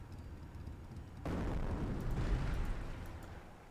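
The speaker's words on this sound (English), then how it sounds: "Incendiary mortar completely whiffed" An incendiary mortar round lands with a sudden broadband boom in a Company of Heroes 1 match, settling into a sustained rumbling, crackling wash of battle noise that stays loud to the end.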